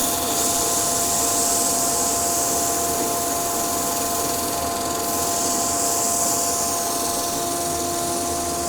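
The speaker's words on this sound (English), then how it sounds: "let's just sand that bit of lacquer off before we get going" A sander strips lacquer off wood while a dust extractor runs, making a loud, steady whirring roar that holds at the same level throughout.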